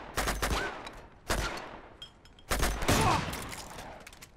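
Shotgun blasts in the video game Uncharted 2: Among Thieves, three loud close shots spaced about a second apart, each with a decaying tail, no talk.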